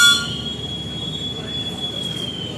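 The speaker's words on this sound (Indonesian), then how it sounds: "kereta api Argo Anggrek persiapan diberangkatkan kembali." The Argo Anggrek passenger train prepares to depart at night after a crew change and water refill. A steady high-pitched wheel squeal rides over a low rolling rumble, loud and close, with no talking.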